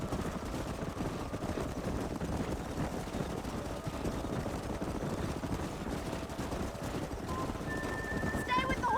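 Horse hooves clip-clop steadily in Red Dead Redemption as riders herd horses up a narrowing canyon, a busy rumble of hoofbeats running throughout beneath a voice.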